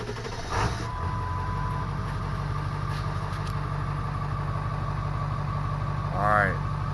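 A Ford 7.3 Power Stroke diesel truck engine with its air intake deleted and plugged idles steadily with a deep, rumbling drone throughout, loud and close, with a brief higher whine near the end.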